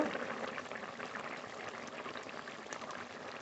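A pot of rohu fish kalia curry simmering with fried fish and green chillies, giving a steady, soft bubbling and sizzling that stays faint and even throughout.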